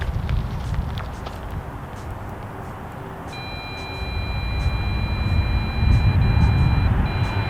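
Dragon Eye laser speed gun emitting a steady, high electronic tone that starts midway and holds while it tries to acquire a lock, sounding over continuous low road and cabin rumble.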